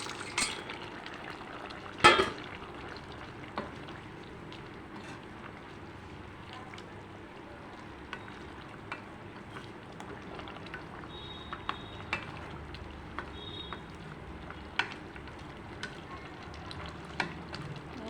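Bitter gourd and bori fry in a pan as hot water is poured in. A steady, close sizzle and bubbling hiss runs throughout, with occasional clinks of a utensil against the pan.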